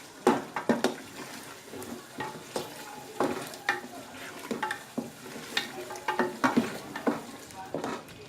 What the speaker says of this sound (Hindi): अब इसके अंदर चिकन ऐड करके अब इसको 10 से 15 मिनट मज़ीद भून लें चिकन के साथ।